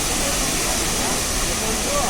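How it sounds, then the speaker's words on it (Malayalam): Athirapalli waterfall roars in a steady, powerful hiss of falling water, loud and unbroken from start to finish, heard from a viewpoint. "വെള്ളച്ചാട്ടം നമുക്ക് നല്ലതായിട്ട് കാണാൻ പറ്റുന്നുണ്ട്."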